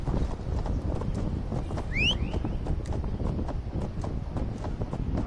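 Steady, rhythmic clip-clop of horse hooves trotting close by in Assassin's Creed Valhalla, with a brief whoosh partway through.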